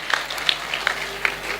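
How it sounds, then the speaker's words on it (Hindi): Audience at a Hindi kavi sammelan poetry event breaks into applause, a burst of scattered, uneven claps from a crowd, moderately loud and close, lasting under two seconds. "भाई जोरदार तालियां भाई"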